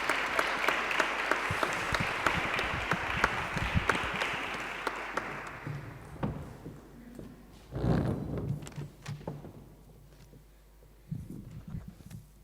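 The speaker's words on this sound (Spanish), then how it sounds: "Un aplauso para ella." Applause from an audience at a book presentation swells for about six seconds, then thins into scattered claps and fades, with some low shuffling and brief murmurs afterward.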